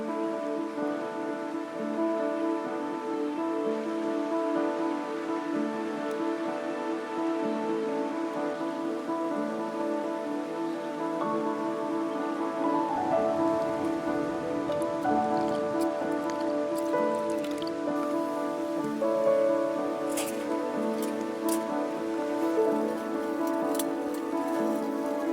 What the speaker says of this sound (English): It keeps saying no chance of rain and we get dumped on.